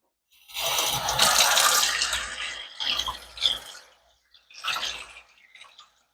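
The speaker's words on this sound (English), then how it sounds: "Run some hot water through it as well." Hot water running from a tap and flushing through a removed fridge freezer drain line, a steady splashing flow with a short pause and then two briefer bursts, close and moderately loud with no talk.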